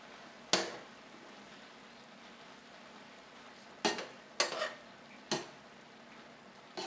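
Cheeseburger mac ingredients being folded together in a pan: a quiet, faint sizzle underneath, broken by four sharp scraping clanks of a spoon against the pan, one early and three clustered later.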